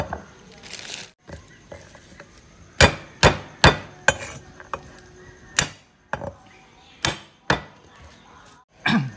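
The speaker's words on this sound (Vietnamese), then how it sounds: "Tiêu nè, đâm dập vậy thôi, đừng đâm nhuyễn quá không ngon." Black pepper is pounded in a mortar for a black pepper crab sauce, giving about a dozen sharp, close thuds in irregular bursts with brief gaps and some low rustling between strikes.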